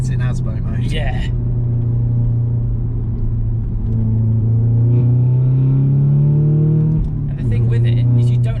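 Manual Audi S3 engine revving on boost, a loud raspy rumble rising steadily in pitch as it climbs toward about 4,000 rpm, heard from inside the car with voices talking at the start and end.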